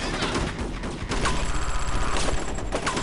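Continuous video game gunfire, dense rapid bursts of shots layered over each other, loud and close throughout with no pauses.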